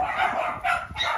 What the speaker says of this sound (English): these dogs just came back in, the ones that are barking